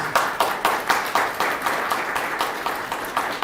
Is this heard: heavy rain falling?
no